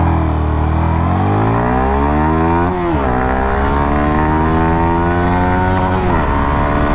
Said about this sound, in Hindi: तो चलिए इसकी जो एक्सेलरेशन टेस्ट है कंप्लीट पहले उसको करते हैं